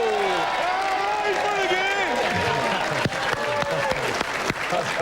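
An audience claps and applauds at a live event, a dense rattle of many hands that continues steadily with voices and cheering mixed in.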